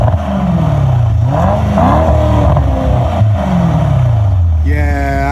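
A Mercedes-AMG E63s V8 engine in race mode revs hard close by, its loud roar rising and falling through several throttle blips before a sharp high-pitched whine at the end.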